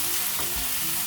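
Mushrooms and onions frying over medium-high heat in a pan, a close, even sizzle with a soft stir partway through, brief and moderately quiet.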